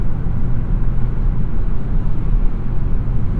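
Engine and road drone heard inside the cabin of a 2021 Hyundai Sonata N Line climbing a highway incline, a loud, steady low rumble that holds evenly throughout.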